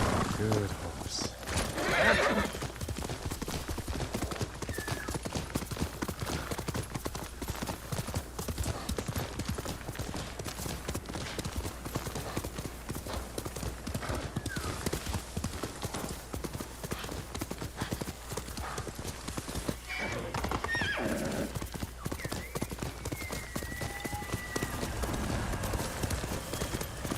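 A horse gallops in Ghost of Tsushima, its rapid hoofbeats clopping steadily throughout with occasional whinnies, close and continuous, while a person talks over it.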